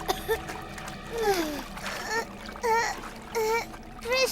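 Water splashes in bursts in an animated scene, with short sloshing splatters repeated under and between excited cartoon voices calling out.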